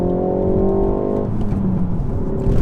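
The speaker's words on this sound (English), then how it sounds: "when we do downshift, it auto blips the throttle so you can get straight onto the power" A Ford Focus ST MK4 in sport mode blips its throttle automatically on a downshift: a steady, loud engine drone rises, then breaks into rough, crackling exhaust pops and burble, up close and with no talking.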